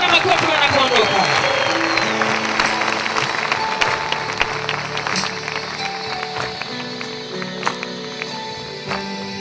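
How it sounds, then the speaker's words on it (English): Church congregation clapping at a New Year's overnight service in Kakamega, a loud burst of clapping with mixed voices at the start that gradually thins into scattered claps and background noise. "Let us clap to the Lord as they leave"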